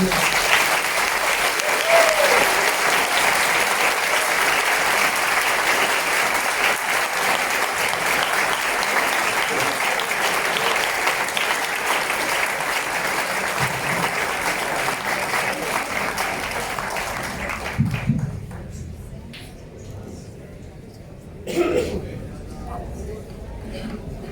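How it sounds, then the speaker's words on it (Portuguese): Crowd at a rally at USP applauding, a loud continuous roar of clapping for most of the stretch that ends abruptly, leaving quieter room noise with a few bumps and brief voices. "Vamos aplaudir"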